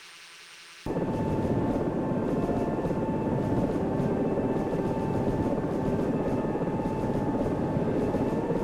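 Helicopter in a video game, roaring into a loud, steady hover after a brief quieter start, a constant dense turbine and rotor drone with no talk.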